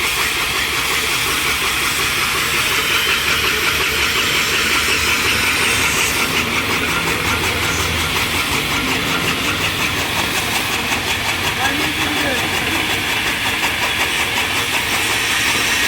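Cutting machine slicing metal in an engineering workshop: a loud, continuous grinding roar with hissing, held steady and close for the whole stretch, with no voices.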